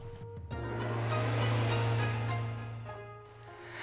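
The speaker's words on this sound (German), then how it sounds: "Am sogenannten Bodekessel gebärdet sich der Fluss besonders wild." The wild Bode river rushing through the Bodekessel gorge in the Bode valley, a steady close roar of turbulent water that swells and eases slightly.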